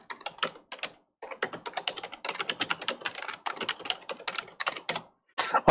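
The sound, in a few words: typing on a computer keyboard in the background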